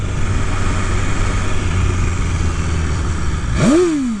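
A BMW S1000RR superbike engine drones loudly and steadily, then gives a quick rising rev near the end.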